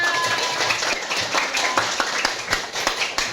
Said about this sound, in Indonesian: Tepuk tangan buat Saka